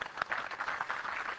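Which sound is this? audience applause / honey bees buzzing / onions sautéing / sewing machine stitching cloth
audience applause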